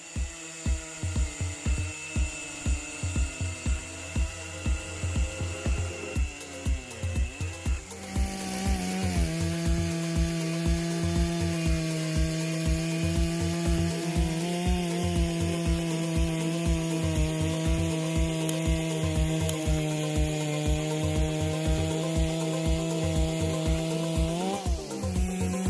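Two heavy-duty chainsaws, a Stihl MS-084 and an HQ3120XP, run at full throttle while cutting through wood, one loud steady rasping roar that shifts pitch partway through as the engines bog and pick up again.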